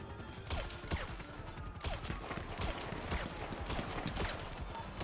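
Gunfire in GTA 5 roleplay: a rapid fusillade of shots crackles in bursts over engine rumble and street noise, with moderately loud, repeated sharp cracks spread across the moment and no talk.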